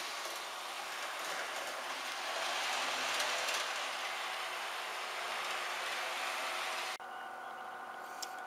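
A model train runs on a club layout with a faint, steady rolling rumble and hiss. The sound stays even and fairly distant, then drops off abruptly near the end.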